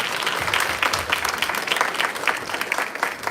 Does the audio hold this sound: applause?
yes